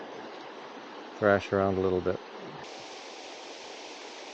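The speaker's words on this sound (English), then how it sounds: "We're going to go and see if we can find the waterfall that we hear." A waterfall in the bush near Noisy Bay on Lake Superior, Ontario, sends out a steady, distant rushing roar that holds constant throughout, while someone speaks briefly partway through.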